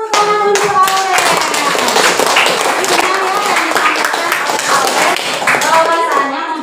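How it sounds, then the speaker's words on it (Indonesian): Loud, close clapping and applause from a classroom group during a teaching assessment, sustained dense hand claps with a few voices calling out underneath. "Luar biasa, tepuk tangan untuk Aurelia."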